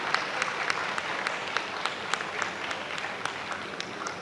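Audience applause for Rizwan Jafar at a leadership and IT students' event, a sustained even wash of clapping from a crowd with distinct sharp claps throughout, moderately loud and continuous.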